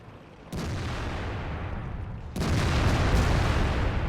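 Heavy tank cannon fire from IS-3 tanks in the World of Tanks game, two loud broadband booms, each followed by sustained rumbling, the second heavier and closer.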